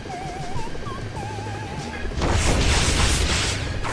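Missile explosions from aircraft weapons in the LEGO Worlds video game: a loud, sustained rumbling blast that swells about halfway through, over continuous game music with a warbling tone.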